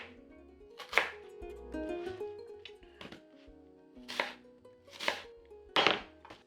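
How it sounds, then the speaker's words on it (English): Potatoes or onions sliced into medium pieces on a cutting board in a home kitchen, several distinct knife chops landing against the board at irregular intervals, close and fairly loud with quiet pauses between strokes. "Slice this into fairly just medium slices."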